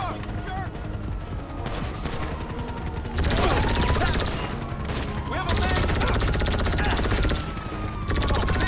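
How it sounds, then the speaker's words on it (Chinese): Rapid automatic fire from a weapon in GTA Online, continuous dense shooting running throughout with louder bursts, backed by game ambience and sirens. "射速很快啊！还玩具枪哦，扫射尸体"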